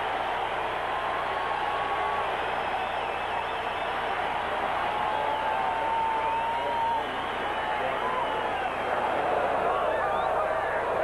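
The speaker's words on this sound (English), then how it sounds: "This is the crowd reacting to the defense of the Oakland Raiders." A stadium crowd roars for the Oakland Raiders defense during the 1980 AFC Wildcard playoff against the Houston Oilers, a broad sustained wash of cheering and noise from a large distant audience with no pause.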